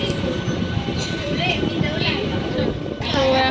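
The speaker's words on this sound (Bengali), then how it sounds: "আমরা এদিকে ট্রেনে উঠে পড়েছি" A passenger train ride on a local line toward Howrah: steady, heavy rumble and rattle of the carriage throughout, with people talking over the noise.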